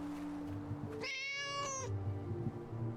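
A cat lets out one loud, drawn-out meow lasting under a second, close and clear over a low background hum, with no talking around it.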